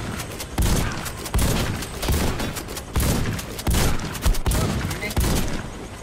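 Rapid automatic gunfire in the Warface shooter game, repeated sharp bursts roughly every second, loud and close, with little talk over it.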